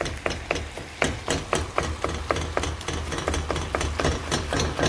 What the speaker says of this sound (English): you can always take your spatula and carefully chop it up, smaller pieces